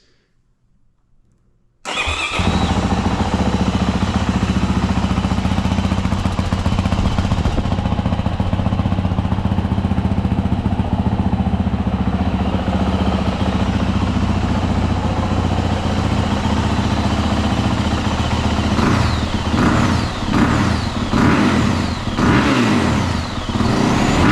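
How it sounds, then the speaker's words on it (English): After a brief quiet moment, a 2026 Yamaha YZ450F motocross bike engine fires up and runs loud and close, a rough steady rumble with a few revving bursts near the end. "I never heard a motocross bike sound like this."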